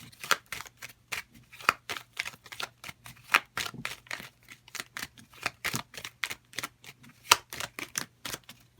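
Tarot cards are shuffled and drawn from a deck, producing a long run of quick, crisp flicking snaps at a soft, close level, with no talking.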